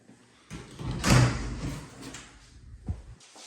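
A closet sliding door in a house bedroom rolls open along its track with a rumbling slide, then glides shut about two seconds later with a soft thud, indoors and fairly close.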